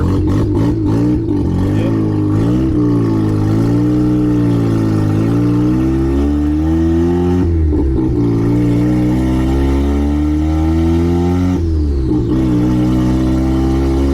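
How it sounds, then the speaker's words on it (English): A turbocharged 12A rotary engine with a blow-through carburettor revs loud and close, its buzzing drone rising and falling through several throttle blips, with turbo whine audible even at low rpm. "like how you can hear the turbo even at like 2 grand."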